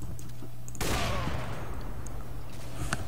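Gunfire in a round of the shooter game CS:GO, a sudden loud burst of shots near the one-second mark fading into a lingering ring, with faint background sounds and small clicks afterward.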